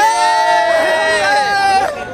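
A dense crowd babbles on a training centre ground during Holi celebrations, many voices merging into a steady, loud hubbub with some raised shouts and tonal calls cutting through.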